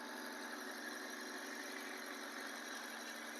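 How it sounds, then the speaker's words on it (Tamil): A petrol car engine runs at a raised, steady speed just after starting, a continuous mid-pitched hum with a faint squeal on top, quiet and heard alone without talk. "இப்போ ரேஸ் ஆகிட்டு இருக்குதுங்க, வண்டி ஓடிட்டு இருக்கட்டும்."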